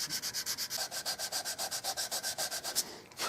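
Hand sanding on a wooden shotgun stock from a Dakin 12-gauge side-by-side, heard as about twenty quick, even back-and-forth rubbing strokes in a steady rhythm, close and fairly quiet, ending with a final stroke before stopping.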